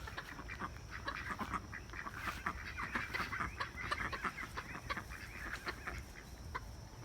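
A flock of ducks in an evening vegetable garden in Maryland, quacking and clucking in dense overlapping bursts at close range, continuous and busy throughout.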